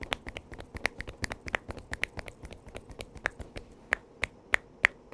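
Cupped-hand percussion massage strikes delivered with both hands over the shin and back, a quick steady patter of sharp, fairly loud slaps with a few harder claps near the end.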